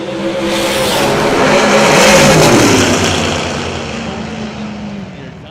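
Two heads-up drag race cars launch side by side at a spring drag racing event, a loud roaring engine blast that swells and then fades as they pull away.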